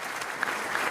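An audience applauding the mayor of Trèbes: a brief burst of dense, steady clapping from a crowd, fairly close and even, with no speech over it.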